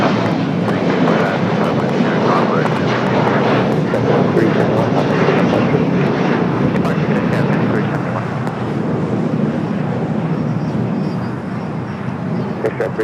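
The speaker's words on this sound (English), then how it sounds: "That was United Express SkyWest Flight 5371 heading to Salt Lake City." United Express SkyWest airliner taking off at LAX, bound for Salt Lake City, a loud sustained jet engine roar that stays strong and close before easing slightly toward the end.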